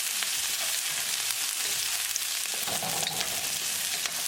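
Onion and green chili frying for a stir-fry of mixed vegetables and tofu give a dense, even sizzle with faint scraping from stirring, close and steady throughout.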